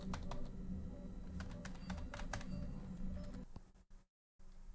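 Computer keyboard keys being pressed in rapid, irregular bursts of crisp clicks, close and clear with no talk, stopping abruptly into a brief silence near the end.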